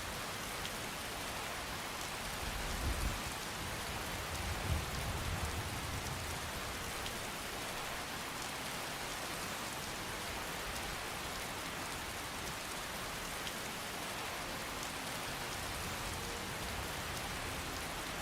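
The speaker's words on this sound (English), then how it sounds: "with the rain pouring in, it's like the whole cave is crying along with the sky" Rain pouring into a cave in the video game Skyrim: a dense, steady hiss of heavy rainfall on surfaces, continuous and even throughout, with no voices.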